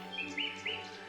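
Birdsong in the video game Beyond The Edge Of Owlsgard: three short, bright chirps or trills rise over a steady low ambient hum, evenly spaced and fairly close, with no voices.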